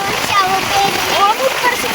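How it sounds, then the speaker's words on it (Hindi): Rainwater rushing and splashing along a road in Rampur, a steady close wash of water with busy splatter throughout. "पानी तो जा रहा बेटा, रुक नहीं रहा कहीं भी"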